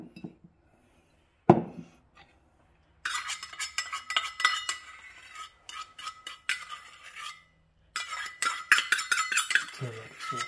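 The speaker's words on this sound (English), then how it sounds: "Give it a stir." Teriyaki ginger sauce for beef jerky is stirred with a utensil, giving bursts of clinking and scraping against the bowl separated by quiet gaps, with a single sharper knock near the start.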